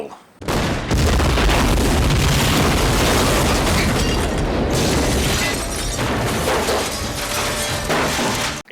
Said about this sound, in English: Except in action movie land where everything explodes!